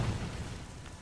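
A booming burst from the tear effect in Torchlight 3, loud and low, with a dull rumble that fades over about a second.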